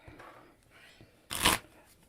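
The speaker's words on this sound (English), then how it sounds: "Let's shuffle them real quick." A brief riffling burst of oracle cards being shuffled comes after a moment of faint rustling.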